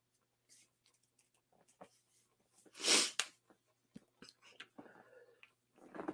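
A person sneezes once loudly and close around the middle, amid quiet sniffles and small breathy sounds before and after.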